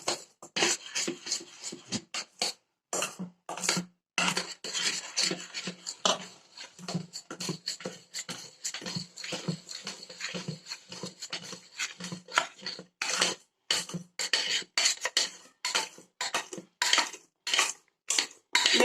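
A utensil stirs a mixture of eggs, sugar and essence in a bowl, making rapid, rhythmic clinking and scraping strokes that come in bursts with brief pauses, close and fairly loud, with no talk.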